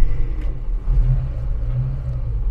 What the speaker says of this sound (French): Alors, un petit démarrage sans le choke.